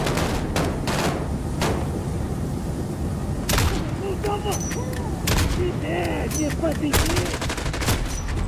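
Rifle fire in Call of Duty Modern Warfare 2019 on realistic difficulty, sharp close shots popping at irregular intervals over a rumbling bed of distant battle and explosions, with someone talking over the gunfire.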